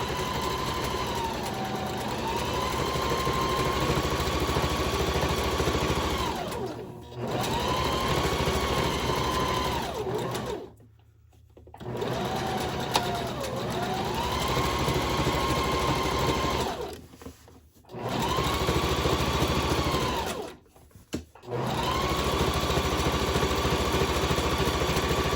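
A sewing machine stitches a hobo bag in long, steady whirring runs, broken by several short pauses where the stitching stops and restarts.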